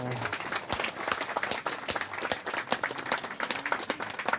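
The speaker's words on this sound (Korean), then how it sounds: "박수로서 환영해 주시면 고맙겠습니다" An audience applauds steadily for several seconds to welcome a world-renowned pianist at a commemorative ceremony, a dense even patter of many hands clapping with no speech over it.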